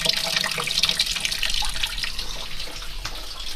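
Coolant drains out of a Land Cruiser BJ42 in a steady, hissing splash of running liquid, continuous and close, with no voices.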